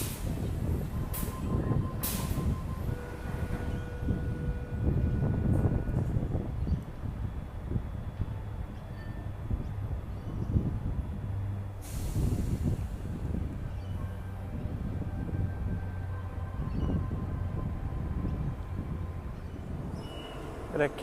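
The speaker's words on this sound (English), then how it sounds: "Got a K-set departing platform number 1." A Sydney Trains K-set electric train departs a platform at St Leonards station, a loud steady rumble of motors and wheels with brief squeals and clanks, rolling on continuously throughout.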